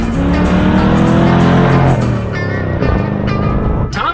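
A C3 Corvette roars loudly through a burnout at a race start, its engine revving hard and steady with tire noise, then shifting pitch as it accelerates away.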